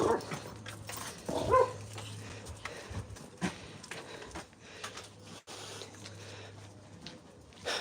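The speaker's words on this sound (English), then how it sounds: "We had dogs on both sides of the fences then." Dogs bark from behind fences along an alley walk, a run of loud, irregular barks and yips close by with some whimpering, over steady outdoor background noise.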